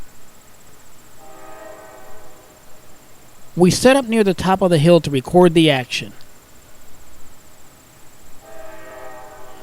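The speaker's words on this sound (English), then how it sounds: "5 of the biggest and most powerful locomotives in the world struggle to lift 105 loaded sand cars" Deep rumbling of five large freight locomotives working hard in the distance, hauling 105 loaded sand cars uphill in northeastern Pennsylvania, with someone talking over it and insects chirping in the background.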